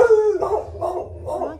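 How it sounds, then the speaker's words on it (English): Several dogs bark and howl together, a drawn-out howl followed by rhythmic bursts of barking, close and fairly loud with no speech. "So my dogs had a lot to say about it."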